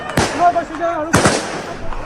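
Police fire gunshots into the air during unrest in Lakhimpur, two sharp, loud cracks about a second apart, with a voice heard between them.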